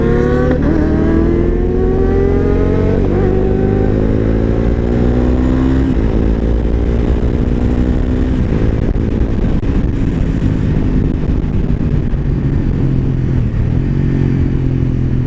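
A Yamaha Tracer 900GT touring motorcycle roars loudly and continuously while riding, its engine note climbing repeatedly through the gears with strong wind rush and no talking.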